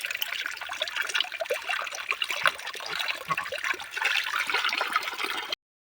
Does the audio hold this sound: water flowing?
yes